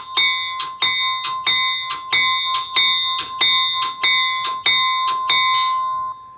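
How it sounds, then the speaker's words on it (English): A bright remote-controlled bell mounted on a trailer rings in a steady, quick series of strikes, about a dozen loud clangs with ringing overtones, then fades out. "So y'all can see that this bell is kind of loud."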